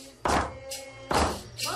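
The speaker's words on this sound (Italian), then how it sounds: "Dopo aver pestato questi fasci di liane kaapi" Bundles of kaapi vines are pounded to prepare an ayahuasca brew for a religious ceremony, giving two heavy, dull thuds about a second apart, with a background voice murmuring between them.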